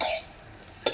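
A brief scrape of stirring in a hot pan, with food sizzling and a quick clink at the end.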